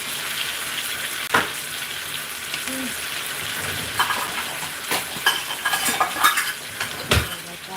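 Ingredients for a chicken stew sizzle softly in a pan while utensils clink and scrape against it, a low frying hiss punctuated by sharp metallic taps and knocks.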